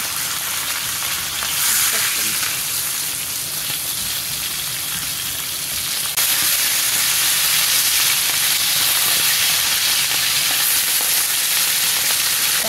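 Fish pieces fry in hot oil in a pan for a restaurant-style orange-flavored fish curry, giving a loud, continuous, hissing sizzle that jumps noticeably louder about halfway through and stays strong.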